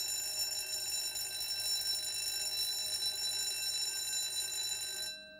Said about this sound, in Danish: så fik vi en brandalarm på vores panel, plus vores alarmklokker ringede, og det er jo en kraftig lyd